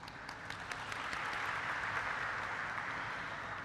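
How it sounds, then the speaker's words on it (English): Audience applause at a stock exchange listing ceremony for a pharmaceutical company, a steady wash of clapping that holds at moderate volume throughout. "let's have a huge round of applause"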